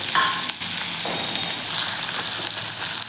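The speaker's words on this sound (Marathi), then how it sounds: "हा कांदा बारीक कट केलेला आहे तो घालून घ्यायचा आहे" Finely chopped onion hits hot oil already crackling with mustard seeds, cumin and asafoetida, giving a loud, dense sizzle from the start with a brief dip and a few stirring scrapes.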